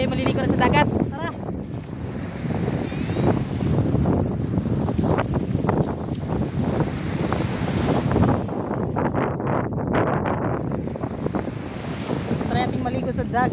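Strong wind buffets the microphone over the constant roar of rough crashing surf at a beach, with faint voices mixed into the noise.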